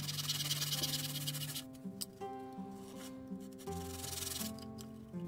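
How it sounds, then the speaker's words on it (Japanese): A wooden spatula from a 100-yen shop being shaved down by hand, a continuous rasping scrape that thins out into quieter strokes and brief pauses, close and alone. "ノコで目印をつけて、半分を削っていきます。"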